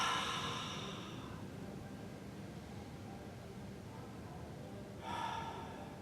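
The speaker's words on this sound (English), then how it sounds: "So 2 more big inhales through the nose. And exhale through the mouth." Big breaths drawn in through the nose and pushed out through the mouth during a back-strengthening yoga session: a breathy exhale in the opening second, quiet in between, then another airy breath near the end.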